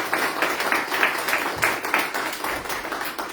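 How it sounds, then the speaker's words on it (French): An audience applauds medium Isabelle Camus as she is welcomed as a guest speaker at Les Délices de l'âme, a dense, steady wash of many hands clapping for several seconds with no talking. "je vous demande d'applaudir bien fort Isabelle Camus"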